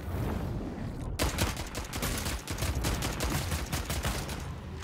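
Rapid bursts of gunfire in the video game Bloodhunt crackle repeatedly at moderate distance, several volleys overlapping in a fairly quiet, dense firefight.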